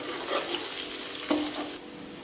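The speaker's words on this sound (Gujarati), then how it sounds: "કાંદાને લાલ કલરનો થઈ જાય ત્યાં સુધી તળવા દેવાનો છે" Onions fry in oil with a soft, steady sizzle, close up, and a slight clink midway.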